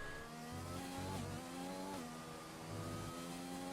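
An F1 2020 video game race car accelerates in a French Grand Prix league race, its loud, continuous high-revving engine climbing through quick gear shifts and dropping briefly between them.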